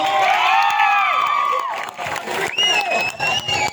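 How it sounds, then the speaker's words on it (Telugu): A college festival audience at a comedy performance cheering with excited shouts and whoops, some clapping mixed in, loud at first and then easing off. "నచ్చితే ఒకసారి గట్టిగా చప్పట్లు"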